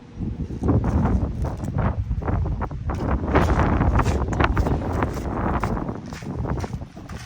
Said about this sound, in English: It was flapping in the wind.